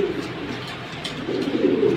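Military breed pigeons coo in low, soft, rolling calls, a steady close murmur that swells slightly near the end, with no voices.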